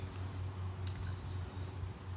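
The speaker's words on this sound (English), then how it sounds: "Spray paint it." Aerosol spray paint can hissing in a steady broad spray, close and fairly quiet over a low background hum, with brief pauses in the stream.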